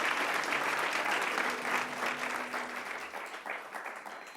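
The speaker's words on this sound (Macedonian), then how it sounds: "Аплауз за Спасе." A studio audience applauds for a guest on a Macedonian call-in show, a dense clapping burst near the microphone that fades slightly toward the end.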